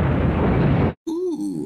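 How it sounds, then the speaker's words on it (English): A nuclear explosion effect from the 1986 sci-fi film Aliens: a dense, loud rumbling roar that cuts off abruptly, followed after a short silence by a low, wavering resonant drone. "a nice little nuclear explosion effect in the background"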